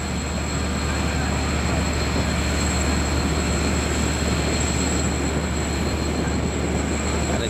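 A diesel locomotive idles nearby with a steady, deep engine rumble and a faint high whine held constant throughout.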